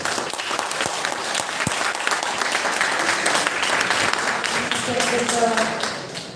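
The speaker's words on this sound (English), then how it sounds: "round of applause for Susan sir." An audience gives a round of applause at a college guest lecture, a dense, steady wash of many hands clapping close by for several seconds before tapering off at the end.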